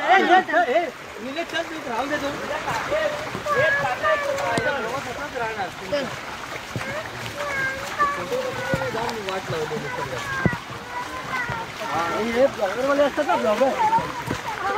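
Water from the Bekare waterfall near Matheran rushes and splashes steadily nearby in the monsoon while people talk loudly over it, with some wind buffeting in the background.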